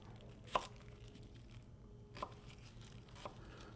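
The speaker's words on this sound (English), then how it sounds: "I've already peeled my onion back. And so we're just going to slice through." A knife cuts through a peeled onion for barbecue prep, three distinct crisp slicing crunches spaced about a second apart, close but faint against a quiet room, with no talking.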